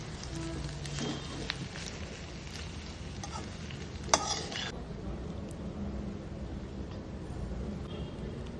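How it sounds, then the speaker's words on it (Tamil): Cooked rice stir-fried with chilli garlic paste in a hot pan for egg fried rice, giving a steady close sizzle and scraping stir with one sharper clink of utensil against the pan midway. "அதோட வேக வச்ச சாப்பாடு போட்டு நல்லா ஒரு வதக்கிக்கோங்க."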